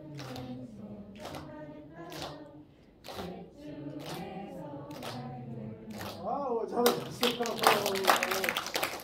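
People in a teacher-training session singing together while clapping along, rhythmic hand claps under the group voices, growing louder and denser toward the end.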